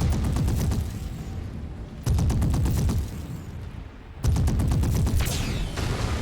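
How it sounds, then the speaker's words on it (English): Binary laser fire in Mechwarrior 5, loud rapid-fire pulsing bursts in several sustained volleys separated by short pauses, close and dominant with no talk. "I'm holding down the button on the binary laser."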